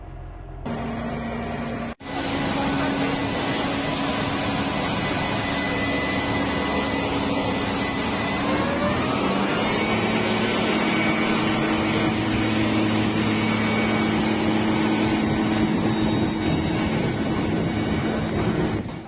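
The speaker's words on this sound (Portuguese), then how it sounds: "a chamada barberice de atolar trator nos banhados" Tractor engine straining while stuck in mud on a rural dirt road in Brazil, a steady loud drone with a rising shift midway, continuous and close.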